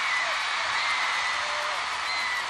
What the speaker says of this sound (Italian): Vi meritate tutto l'applauso di questa arena